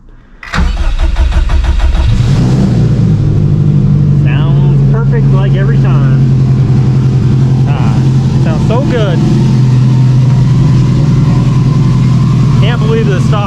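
A heavily modified, high-horsepower Subaru STI on its stock motor cranks and fires up loudly, then settles into a rough, burbling idle close by, while voices talk and exclaim over it.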